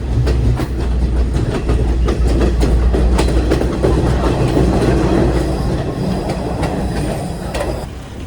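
A train runs along rails in Sri Lanka, its loud, steady rumble and rhythmic clickety-clack of wheels filling the whole stretch up close, with occasional squeals and no talking.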